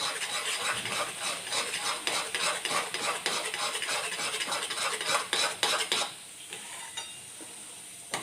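Wheat jadariyu mixture stirred in a pan with a spoon, close rhythmic scraping and clinking against the metal over a faint sizzle, the stirring stopping about two seconds before the end.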